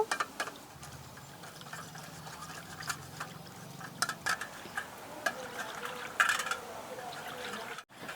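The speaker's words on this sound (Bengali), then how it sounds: "দুধের মধ্যে দিয়ে দেবো গুঁড়ো দুধ 2 চামচ, কাস্টার্ড পাউডার 2 চামচ। ভালো করে আমি গুলিয়ে নেব।" Milk stirred with milk powder and custard powder in a bowl, faint liquid swishing and light spoon taps under a speaking voice.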